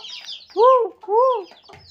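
A chicken makes two distinct, close clucks about half a second apart, each a short rising and falling call, with quiet surroundings in between.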